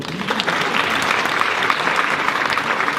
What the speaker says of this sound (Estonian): laske korraks käed lahti, tehke veel esinejatel kõige suur aplaus